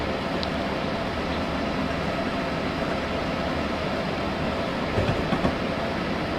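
A train in Train Simulator 2015 rumbles along the rails with a steady, broad roaring hum, close and constant, with a few faint clanks late on.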